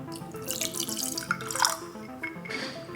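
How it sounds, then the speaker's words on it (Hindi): Water poured close-up into a glass of D'Yavol Inception whisky over ice cubes: a steady splashing trickle with faint clinks of ice, continuous for the whole stretch. "इतना ज़्यादा पानी डालने से क्या होता है"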